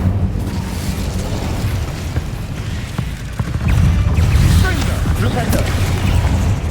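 Incendio fire spell in Hogwarts Legacy, a dense, continuous roar of flame and crackling that swells louder in the second half, with scattered sharp pops and rumbles.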